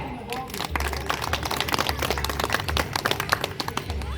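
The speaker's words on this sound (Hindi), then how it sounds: "तालियां।" An audience clapping at a public address for a birthday anniversary event, a dense ragged patter of many hands with crowd murmur beneath and a low hum in the background.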